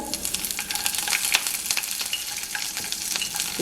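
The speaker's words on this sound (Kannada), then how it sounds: "ಎಣ್ಣೆಗೆ ಸಾಸಿವೆ ಜೀರಿಗೆ ಹಾಕೋಣ ಉದ್ದಿನ ಉದ್ದಿನಬೇಳೆ ಕಡಲೆಬೇಳೆ ಹಾಕ್ಕೊತಾ ಇದ್ದೀನಿ" Mustard seeds, cumin, urad dal and chana dal sizzle steadily in hot oil for a rice rava upma tempering, a dense continuous crackle with scattered sharp pops throughout.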